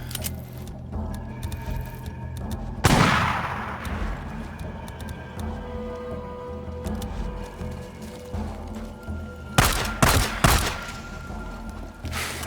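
Gunfire in the video game Days Gone, with a sharp blast early on and a loud close burst of shots later, set over a steady low game ambience and scattered clicks and thumps.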